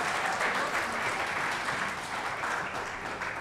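Enthusiastic audience applause at an awards open mic event, a dense, steady crowd clapping that holds strong throughout without speech.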